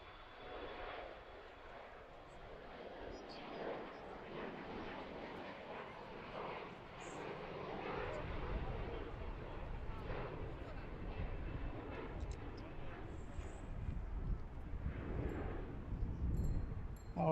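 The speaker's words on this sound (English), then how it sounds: "That one just took off on runway 3-3." A jet airliner taking off on runway 33 at Washington Reagan National Airport, a distant broad engine roar that swells steadily louder over the stretch, with talk faintly present.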